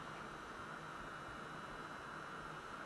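A small cooling fan built into an Anholi G25B RGB gaming mouse runs with a steady airy hiss and a faint whine. The sound stays continuous and even, close to the microphone, with no talking.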